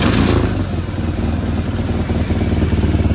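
A cafe racer motorcycle engine fitted with DB Killer baffles starts up and settles into a loud, close, throbbing idle with steady mechanical clatter, no talking.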